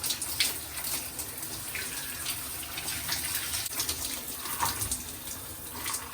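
Shower water running steadily while shampoo is rinsed from hair, a continuous hissing spray with small splashy fluctuations throughout and no talking.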